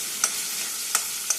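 Cauliflower and vegetables stirred in a hot pan, a steady close sizzle with three sharp spatula scrapes spaced through the short stretch, no voices.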